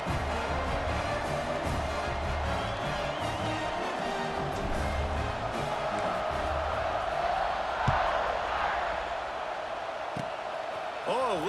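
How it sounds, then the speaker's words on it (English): Stadium crowd buzzing steadily in the football video game College Football 26, a dense, continuous roar with scattered cheers swelling near the end, heard beneath a commentator's voice. "this crowd is buzzing after that last score"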